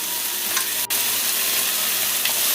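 Seafood for an oil and cream pasta sizzles steadily in a hot pan with tomato, a dense continuous frying hiss with faint stirring scrapes, loud and close with no talking.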